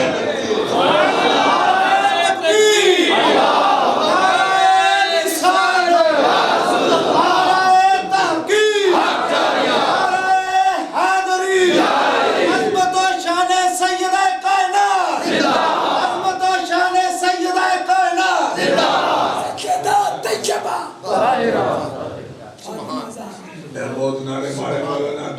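A crowd at a religious gathering chants slogans in loud, rhythmic unison, with repeated bursts of many voices rising and falling before tapering off near the end.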